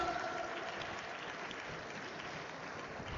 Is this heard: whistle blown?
no